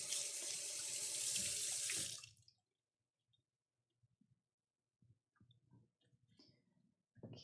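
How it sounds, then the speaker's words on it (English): Kitchen tap running loudly as scallions are rinsed for a sweet potato black bean enchilada garnish, the water rush cutting off after two seconds, followed by quiet handling clicks and small knocks. "Sometimes the ends of scallions are a little dirty, so you might need to rinse them a bit."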